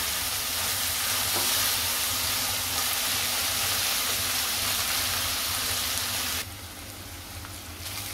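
Onions frying in a pan for soya chunks masala give a steady, loud, close sizzle that continues throughout, dropping slightly in level near the end.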